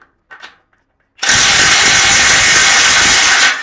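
A Mollar CIW20750 Gen 3 cordless impact wrench tightens a bolt with a loud, sustained burst of rapid hammering whir that starts abruptly after a few faint clicks and runs for over two seconds.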